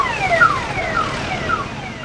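Emergency sirens from police, fire force and ambulance vehicles racing into Pattambi during a disaster management mock drill, several overlapping wailing tones sweeping up and down at moderate distance over steady traffic rumble.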